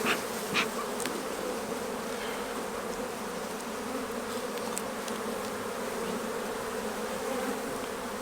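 Honey bees buzz continuously around an open hive during a weekly inspection, a steady dense hum with occasional louder individual bees passing close.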